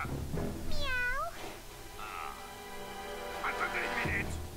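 A cat meows inside the video game Ratchet & Clank 2, one clear rising-falling mew near the start, followed by character speech in French.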